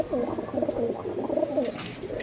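Teddy pigeons coo in soft, repeated rolling calls close by, a layered steady cooing from several birds with no talking.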